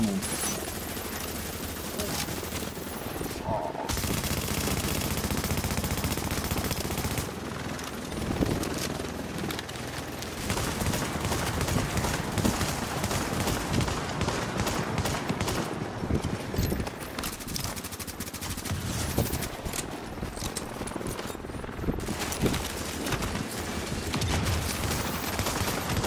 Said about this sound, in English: Careful, I heard shotguns.